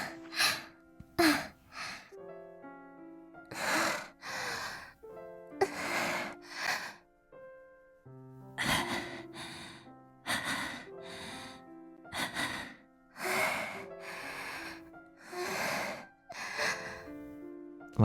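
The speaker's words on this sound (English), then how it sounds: "Why are they all panting?" Characters in the Chaos;Child visual novel pant and gasp in repeated breathy bursts, each burst separated by short pauses against a quiet dark-room background with faint tonal music.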